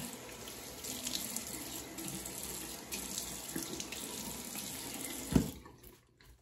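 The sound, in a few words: tap water running, rinsing off alum after shaving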